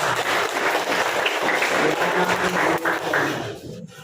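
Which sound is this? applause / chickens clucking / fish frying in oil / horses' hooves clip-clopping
applause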